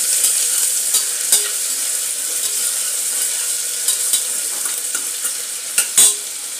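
Finely chopped onion sizzles steadily in spiced oil while a spoon stirs it, with a constant hiss and occasional sharp scraping clicks against the pan.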